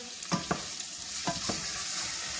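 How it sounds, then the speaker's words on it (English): Ginger, garlic and onion being sautéed in a pan, a steady sizzle with a few soft stirring clatters near the start, no talking. "we're going to saute this for 3 to 5 minutes until the onion is translucent"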